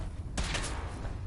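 A short, rapid burst of several gunshots from the video game Fallout 4 cracks out after a moment of quiet, then fades into a low background hum.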